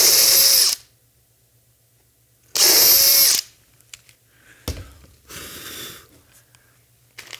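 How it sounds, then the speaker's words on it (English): A power drill bores a pair of holes for mounting wires and electronics, two loud whining bursts of about a second each near and alone, followed by softer handling clicks and rustles. "So we'll go ahead and do another pair of holes drilled here."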